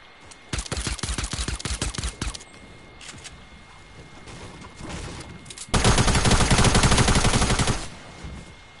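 Rapid bursts of automatic gunfire from shooting an opponent in Fortnite, a fast stuttering volley up front, then a few scattered shots, then a denser, louder sustained burst near the end.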